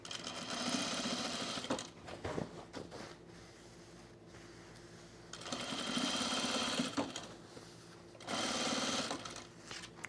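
A sewing machine stitches through a fabric pocket in bursts of rapid mechanical whirring, running about a second or two at a time with short pauses and a few clacks between runs, close and clear.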